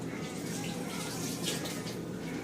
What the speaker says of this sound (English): Sorry, rinsing my hands real quick.